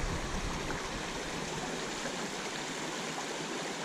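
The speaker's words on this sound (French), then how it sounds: "c'est la rivière qui se vide du Grand Macpais" Water rushes continuously over moss-covered rocks in a river in a canyon near St-Narcisse-de-Rimouski, a dense, even hiss of flowing current heard up close with no voices.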